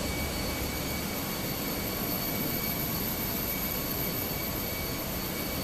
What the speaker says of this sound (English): Why is the engine spooling on ground? It's not spooling on ground, it's a windmilling effect.